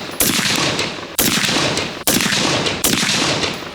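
An MK12 Mod D 5.56 rifle fires Razor Core IMI 77 ammunition, with four loud, close, booming shots evenly spaced about a second apart, each trailing off in a reverberant decay.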